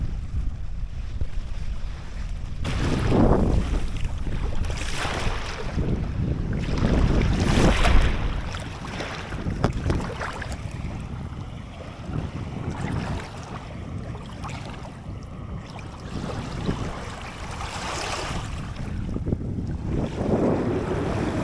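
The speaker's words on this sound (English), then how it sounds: "The waves breaking over the reef." Surf breaking over a distant reef off Turquoise Bay near Exmouth, a steady roar of waves with heavy wind buffeting the microphone and swelling surges that rise and fall throughout.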